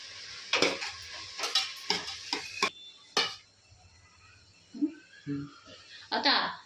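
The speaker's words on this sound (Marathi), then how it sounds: "आता आपण हे हलवून घेणार आहोत" Vegetables frying in a pan with chopped coriander for veg pulao, stirred in a series of sharp scraping, clattering strokes close by, followed by quieter sizzling and a few softer bursts of stirring.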